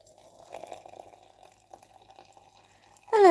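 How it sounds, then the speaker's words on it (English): Hot water trickles and drips faintly, then pours into a cat mug with googly eyes, the pour rising in pitch briefly and loudly at the very end. "We've got hot water."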